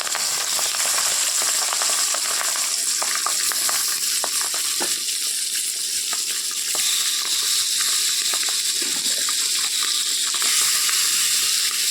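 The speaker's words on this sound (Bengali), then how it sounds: "দিয়ে দিলাম মাছগুলি এবার এগুলি একটু ভাজি হয়ে যাক" Pabda fish fry in hot oil on a gas stove, giving a loud, dense, continuous sizzle with rapid popping and spattering crackles throughout.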